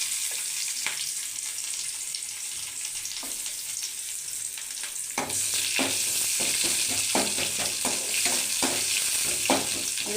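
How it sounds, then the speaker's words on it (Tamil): Onions sizzle and fry in hot oil with mustard seeds and curry leaves for a cabbage and broad bean poriyal, a steady close crackle that grows louder and busier halfway through, with repeated stirring scrapes. "வெங்காயம் நல்லா வதங்கட்டும்"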